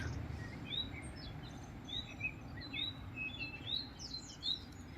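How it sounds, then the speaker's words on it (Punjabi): Sparrows chirp in quick, high, scattered bursts over a soft steady outdoor hum beside a canal, some calls close and others farther off. "ਚਿੜੀਆਂ ਦੀ ਚਹਿ ਚੈਕ ਕਿੰਨੀ ਵਧੀਆ ਲੱਗਦੀ ਆ"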